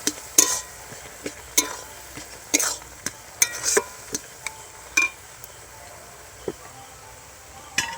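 Mashed jujube pulp being stirred and fried in a pan for sweet kul pickle, with irregular sharp scrapes and clinks of a spoon against metal over a faint sizzle.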